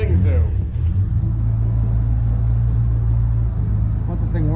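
A Subaru engine warming up at a junkyard, a steady low rumble running throughout at close range, loud and even, with a voice talking over it.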